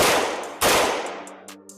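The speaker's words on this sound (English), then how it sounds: "So now we'll show a couple shots of this without the blast can on, just to demonstrate how that muzzle brake does." Rifle fitted with a Witt Machine 416 steel muzzle brake and no blast can, firing two loud, sharp gunshots about half a second apart, each with a bright blast and a ringing, echoing tail.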